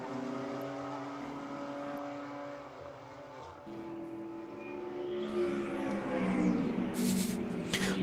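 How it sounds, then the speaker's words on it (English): Stock cars roar past on the front straightaway at Virginia International Raceway during a WRL race, engines droning loud and steady, with a rising whine as more cars sweep by close at the end. "The 45 stock cars just come past me here on the front straightaway, just making all the noise."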